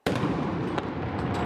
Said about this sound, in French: Plusieurs coups de canon ont été tirés depuis le stade